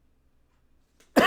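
A single short, harsh cough or throat-clear bursts out loudly and close after a second of near silence, ending abruptly.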